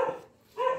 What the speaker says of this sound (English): Dogs are over here.